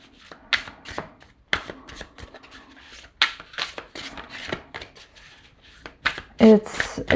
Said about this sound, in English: Shuffles beautifully.